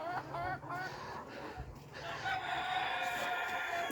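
Sonali and hybrid chickens fill a poultry farm shed with a busy mix of clucking and a rooster crowing, moderately close and continuous, with faint voices in the background.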